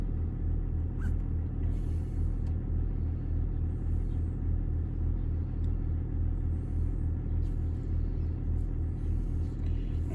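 The air suspension compressor on a Range Rover L322 runs with a steady, low mechanical drone and hum. It is close and constant for the whole stretch, with no speech over it.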